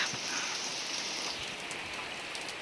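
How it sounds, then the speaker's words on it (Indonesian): Steady rain falls on a rural village, a soft, even hiss of drops on surfaces, fairly faint and uninterrupted with no voices. "Suasana di pelosok desa saat turun hujan tuh teman-teman ya."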